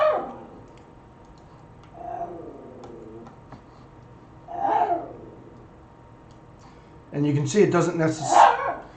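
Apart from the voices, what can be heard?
dog barking in the room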